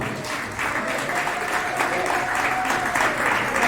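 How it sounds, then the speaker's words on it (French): An audience at an arts and culture gala in Marrakech applauds steadily, dense clapping swelling after a brief start, with a voice faintly heard beneath. "Bravo, on peut l'applaudir très fort."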